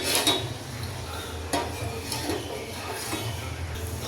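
Sama rice kheer being stirred in a cooking pot, with a spoon scraping and knocking against the pot in a steady, unhurried rhythm of soft metallic clinks and sloshing, close and fairly quiet, with no talking.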